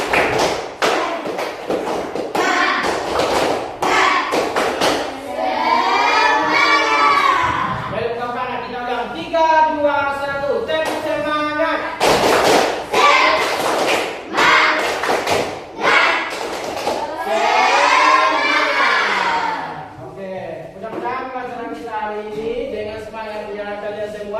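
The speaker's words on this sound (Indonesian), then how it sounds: "Tepuk semangat." Classroom of children doing a rhythmic spirit clap, with sharp hand claps in quick patterns alternating with loud chanted and shouted group voices, all close and lively.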